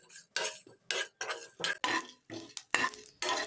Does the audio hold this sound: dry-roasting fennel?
yes